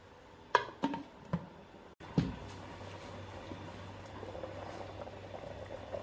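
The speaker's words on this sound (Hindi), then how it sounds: "पानी बॉईल हो रहा है।" Water for pulao boiling in a covered pot on the stove, a steady close bubbling after a few sharp knocks at the start, with no voices.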